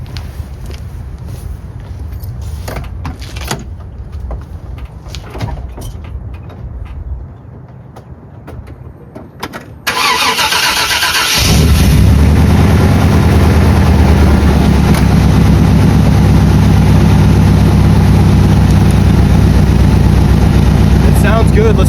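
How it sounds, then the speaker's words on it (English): A pickup truck's engine is fired up after an oil change. Quiet clicks and shop noises come first, then the engine catches abruptly midway and settles into a loud, deep, steady idle that runs to the end. "we do want to fire up the truck, let that oil circulate"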